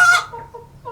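A hen lets out one loud, bright squawking cluck at the start, trailing into a faint low murmur, close and alone with no talking.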